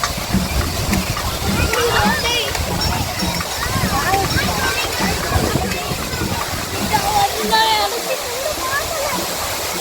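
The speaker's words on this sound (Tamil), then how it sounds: "This is the Kodiveri Falls." Kodiveri Falls waterfall pours with a steady, loud rushing roar throughout, while people talk over it nearby.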